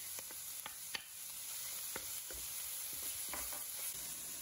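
Cabbage and choy sum leaves stir-frying in a pan for lamb fried rice, a constant soft sizzle broken by scattered clicks and scrapes of stirring, faint and close.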